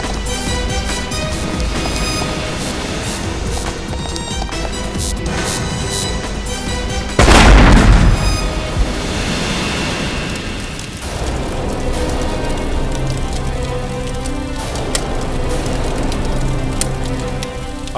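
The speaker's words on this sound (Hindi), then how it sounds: "अपना ही घर बॉम्ब से उड़ा लिया।" A bomb blows up a house in a TV crime drama scene: a sudden loud blast bursts out midway over a steady dramatic music bed, then rumbles and crackles away as debris settles, with the music carrying on.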